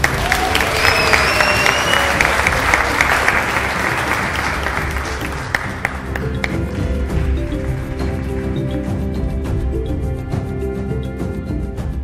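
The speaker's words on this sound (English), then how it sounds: "Honor her by giving her a round of applause." An audience at an anti-corruption summit applauds loudly, the clapping strongest at first and then thinning, with whistles and crowd voices mixed in.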